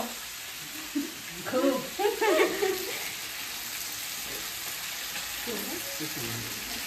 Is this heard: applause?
no